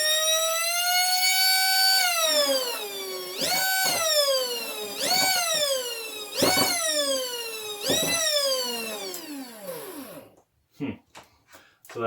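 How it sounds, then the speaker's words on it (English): A 7 volt brushed motor overvolted to 16 volts spins up with a loud, high whine that repeatedly swoops down and climbs again in pitch, then winds down and stops, with a few brief clicks at the end. "So that's that 7 volt motor overvolted to 16 volts."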